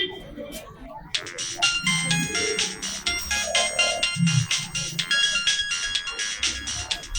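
A mobile phone ringtone plays loud and close, a bright repeating electronic melody that starts after a second and continues steadily, with faint background voices underneath.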